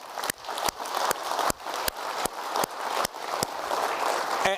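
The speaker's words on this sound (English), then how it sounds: "they've really been incredibly supportive of this event, and they deserve a round of applause." Conference audience at the Fortune Global Forum in Guangzhou, China, gives a steady round of applause for the event's sponsors, a dense, even wash of clapping broken by regular sharp clicks.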